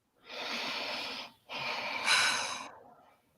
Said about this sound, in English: So if we take a big deep breath.